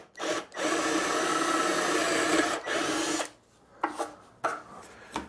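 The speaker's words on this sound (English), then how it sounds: "so I'm coming with a 3/8 drill" A power drill with a 3/8-inch bit whirs steadily through construction lumber for a few seconds, then stops, followed by a few short bursts of scraping and bumping.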